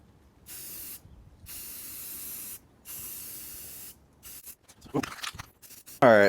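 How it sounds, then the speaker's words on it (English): Spray can hissing in several steady bursts of about a second each with short pauses, painting Saab 900 rear suspension trailing links, ending with clattering handling noises. "I'm going to spray over the top of them"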